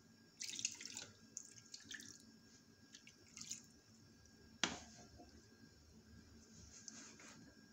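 Water poured into a pot of homemade orange jam, a faint trickle and drip with a sharp splash near the middle, heard alone in a quiet kitchen.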